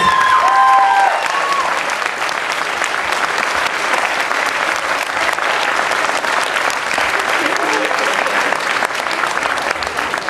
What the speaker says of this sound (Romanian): Merită mai multe rânduri de aplauze.